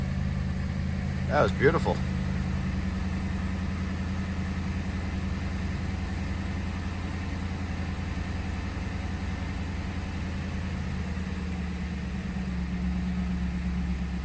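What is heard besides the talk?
Ford Crown Victoria engine starting and idling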